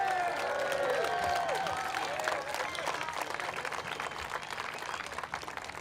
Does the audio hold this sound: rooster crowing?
no